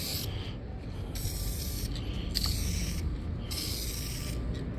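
Spray paint hisses in several short bursts and longer passes, laying a light first coat over the bottom edges inside a GMC Sierra 4.8 truck cab. The spraying is close and continuous over a low background rumble.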